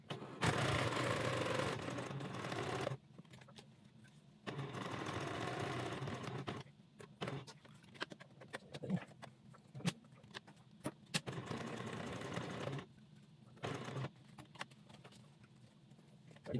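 A sewing machine worked by a foot pedal runs in several loud, close bursts of steady whirring, broken by quieter pauses with small clicks and taps.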